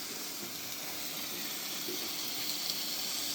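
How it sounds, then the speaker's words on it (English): Egg and bacon frying in a pan for an outdoor breakfast on a cold morning, giving a steady, moderately faint hissing sizzle with no break. "Bit of egg and bacon brekkie."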